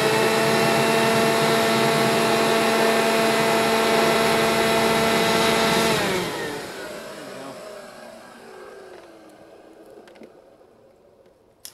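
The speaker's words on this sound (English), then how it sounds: "this leaf blower, even on the lowest setting, is really powerful" A leaf blower on its lowest setting roars steadily and loud with a strong tonal whine for about six seconds, then winds down and fades to a quiet hiss, with a faint knock near the end.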